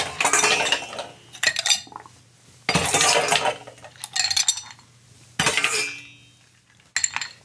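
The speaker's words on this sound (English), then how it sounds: "What we'll do is toss some ice in there." Ice cubes clatter and rattle into a metal drink shaker already holding chocolate, in several loud bursts of clinking and crunching separated by brief pauses, close up with no talking.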